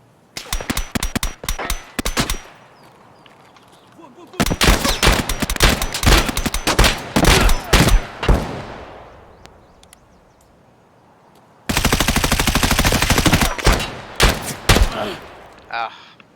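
An M41A rifle in the game Escape from Tarkov fires full-auto in three long, loud bursts of rapid, evenly spaced shots, with short quiet gaps between them.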